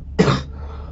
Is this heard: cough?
yes